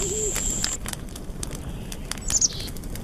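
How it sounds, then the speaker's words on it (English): Birds chirp and call in a daytime video game world, with thin high whistles early on and a brighter burst of chirping near the end over a soft, steady ambient bed. "the birds start to come alive again"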